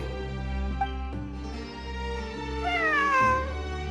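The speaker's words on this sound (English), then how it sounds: "I'm not hearing things. It really is a cat." A cat in the video game Genshin Impact meows a long, wavering call over a steady low musical drone, the meow clear and rising then falling near the end.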